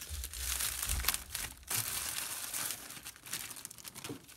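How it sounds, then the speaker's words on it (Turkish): Parcel packaging being torn open and crumpled, a dense run of crinkling and rustling bursts with a few sharper tears, close and fairly loud with no speech. "şimdi bu kargomuzu hemen açalım"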